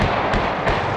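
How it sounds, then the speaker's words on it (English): Demolition charges bring down the Jeremiah Morrow Bridge with two sharp, booming blasts about a third of a second apart, heard outdoors over a loud, broad rumble. "Gage Walker brought down the Jeremiah Morrow Bridge with a bang."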